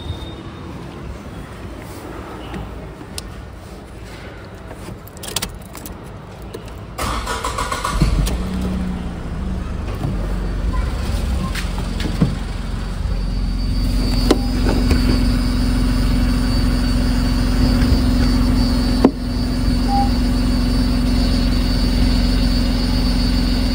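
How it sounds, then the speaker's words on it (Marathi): A Tata Nexon engine with a leaking fuel pipe cranks and catches partway through, then settles into a steady, loud low idle hum close by, with clicks and handling noises around it. "या साईडला गाडी चालू करून बघूया कुठून काय आहे ते"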